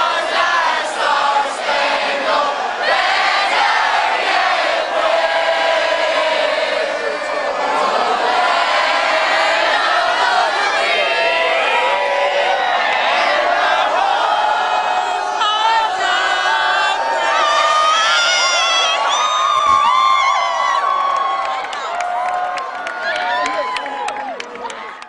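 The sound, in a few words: crowd cheering in the U.S. after the president's announcement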